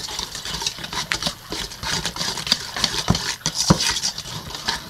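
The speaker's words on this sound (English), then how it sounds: "I'm doing it by hand. I'm just going to whisk it." Hand whisking of pizza bun dough ingredients in a bowl, a steady rhythm of light scraping and clinking strokes against the sides, close and moderately loud.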